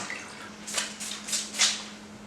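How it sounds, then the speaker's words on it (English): Water drains from a potted pink and white princess philodendron, heard as a few separate splashy trickles and drips at close range over a faint steady hum. "do y'all see how fast that's draining out?"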